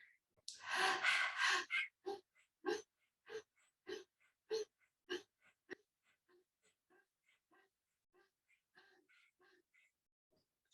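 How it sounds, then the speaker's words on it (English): Shwan Pranayam, the panting-dog yoga breath done with the tongue out, heard as a quick run of about a dozen sharp, evenly spaced breath pulses that start strong and fade to softer, fainter puffs, with no talking. "we stick our tongue out to do the panting dog pranayam called Shwan Pranayam."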